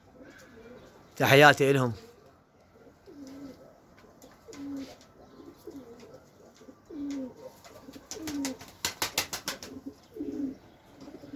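Pigeons coo repeatedly in low, throaty rolls across the whole stretch, with a burst of wing flapping and someone talking over them nearby.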